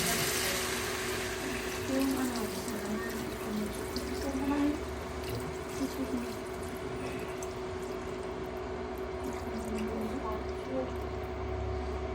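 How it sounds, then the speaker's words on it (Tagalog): Water poured into a pot of pork while cooking curry, a steady running splash heard close up at a constant level, with faint voices in the background. "Lagyan natin ng tubig."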